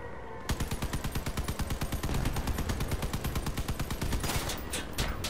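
Rapid, steady automatic gunfire in the vehicle combat game Crossout, loud and close, a continuous rattling stream of shots lasting several seconds with no talk over it.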